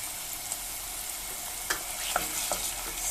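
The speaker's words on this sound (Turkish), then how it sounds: "Salçayı da şöyle diğer malzemeyle beraber güzelce kavuracağım." Tomato and pepper paste frying with minced meat and onion in a pan, a steady close sizzle with a few scraping stirs, no talk.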